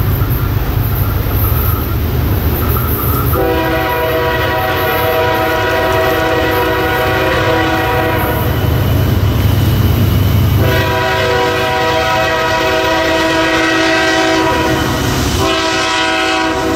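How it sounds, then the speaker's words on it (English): A CSX QO28 hotshot intermodal freight train out of Atlanta rolls by with a steady rumble, sounding two long, loud horn blasts in a chord over rail noise and wheel clatter. "our hotshot QO28 intermodal out of Hulsey in Atlanta, bound for Chicago"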